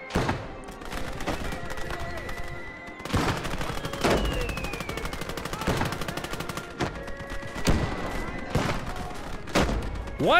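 Rapid bursts of machine gun fire rattle continuously in the WWII game Gates of Hell, with heavy booming impacts at intervals and a voice talking over the battle.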